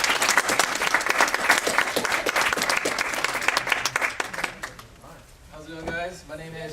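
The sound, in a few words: audience round of applause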